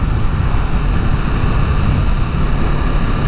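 A Kawasaki Vulcan S motorcycle with its stock exhaust drones at a steady cruise, a loud continuous engine rumble with wind noise from the ride.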